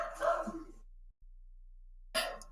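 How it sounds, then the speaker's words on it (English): A dog barks at the door in a home, two short bursts of barking separated by a pause, fairly close and clear with no talk over it. "So that's my dog's barking at the door for you guys."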